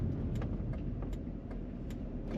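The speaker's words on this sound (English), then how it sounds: "Today we're going for a ride in a 2008 Chevrolet Corvette." A 2008 Chevrolet Corvette coupe with an automatic transmission cruises along, and its engine gives a steady mid-range drone mixed with road and cabin noise at a moderate, even level.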